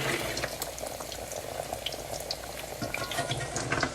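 Salmon patties fry in hot oil in a pan, giving a steady, dense sizzle with scattered pops and spatters. It runs continuously and close, with no talking.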